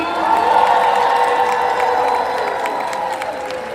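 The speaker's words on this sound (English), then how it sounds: "Let's make some noise for Ernest Petty!" A large crowd cheering and applauding loudly, with whoops and shouts over a steady roar of clapping that holds throughout.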